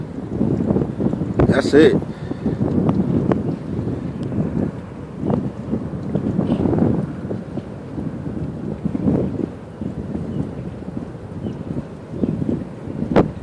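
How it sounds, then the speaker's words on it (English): Strong wind from the May 2013 tornado in Moore, Oklahoma roars steadily outdoors as a low, rumbling gusty rush that buffets the microphone, with people talking intermittently close by. "You hear the wind?"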